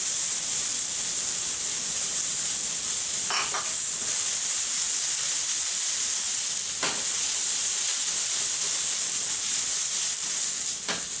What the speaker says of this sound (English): Go ahead and throw in our French green beans and let's get those going.